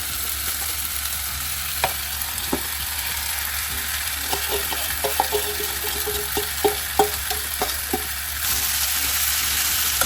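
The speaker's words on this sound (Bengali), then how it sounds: "এবারে আমি চিকেন লেগ পিসগুলো এর উপরে একটা একটা করে ছেড়ে দেবো।" Chicken leg pieces dropped into a hot pan of onion masala for chicken do pyaza, a steady close sizzle with a scatter of sharp spits and clatters as each piece goes in, no talking.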